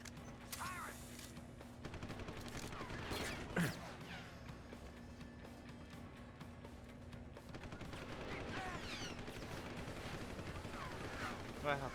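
Enemy gunshots in the video game Deus Ex: Human Revolution, with scattered cracks and mechanical clatter at moderate distance over a steady hum of game ambience, with talk running through.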